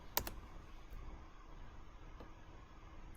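A few quick keystrokes on a computer keyboard while entering a value in a CAD drawing program, one sharp click pair up front and a fainter tap later over quiet background hum.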